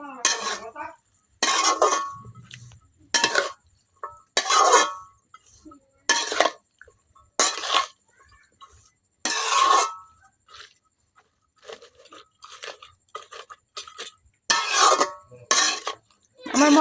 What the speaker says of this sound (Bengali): এখন আমি মশলাটা খুব সুন্দরভাবে বাঁধাকপির সাথে মিশাই নিলাম।